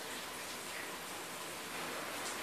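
Rain falling steadily outdoors during a kitchen session making pappada vada, a dense even hiss with no breaks, moderately loud and without voices.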